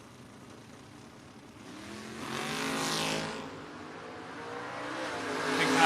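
Drag racing cars launching off the start line, including a 1969 Camaro, engines building from a distant rumble to a loud roaring pass that fades and then swells again, with no talk.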